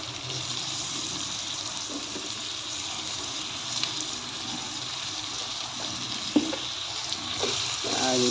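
Tomatoes sautéing with pork in a pan, a steady close sizzle and hiss with occasional stirring clinks and scrapes throughout.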